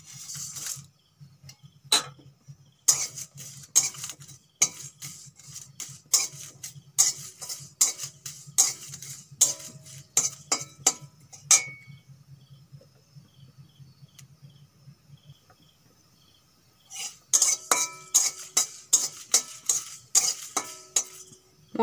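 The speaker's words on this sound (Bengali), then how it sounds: "জিরে, মৌরি, তেজপাতা, শুকনো লঙ্কা, এগুলো আমি শুকনো খোলায় ভাজা করে নেব" Cumin, fennel, bay leaf and dried chillies dry-roast in an oil-free pan, stirred with sharp, rapid metallic scrapes and clinks in repeated bursts, a faint insect-like buzz underneath and a quieter pause midway.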